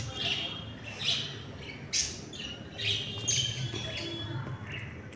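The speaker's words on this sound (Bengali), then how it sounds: "অনেকগুলো করেই পায়রা আছে।" Pigeons and crows feeding outdoors on scattered rice, with a crow nearby drinking water; sporadic chirps, coos and squawks rise now and then over a steady low background hum, fairly near and moderately loud.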